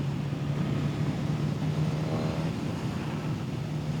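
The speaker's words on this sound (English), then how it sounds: "you really can hear that engine purr, even though it's a stock exhaust" Suzuki GSX-S1000 motorcycle with a stock exhaust, its engine holding a steady, smooth low drone with a faint rising harmonic near the middle, continuous and fairly close with no talking.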